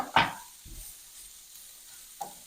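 Strips and small cubes of bacon go into a pan to fry. A brief stirring scrape is followed by a soft, faint sizzle, a light clatter and another quiet knock near the end.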